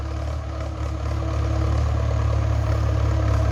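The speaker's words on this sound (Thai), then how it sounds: "รถไถฟอร์ดครับนี่ สายโหด" A Ford 6600 tractor engine idles nearby with a steady, deep, rumbling throb that stays loud and even, growing slightly stronger as it runs.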